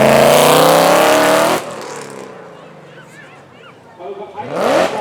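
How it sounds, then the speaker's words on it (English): Highly modified Ford Mustang making over 800 horsepower roars past loudly at a supercar event, its engine note fading away. A second car's engine rises toward the end, with a voice speaking over it. "we're starting with our highly modified Mustang. Over 800 horsepower in this."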